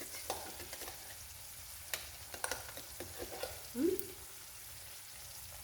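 Ground gongura (red sorrel) chutney paste frying in a pan with an asafoetida tempering, giving a soft, close sizzle broken by a few scattered stirring clicks and scrapes, with no talk.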